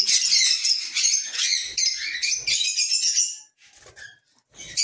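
Lovebirds in a bird loft chirp in a dense, shrill chorus close by, with overlapping tweets for several seconds before thinning to scattered calls and then swelling again.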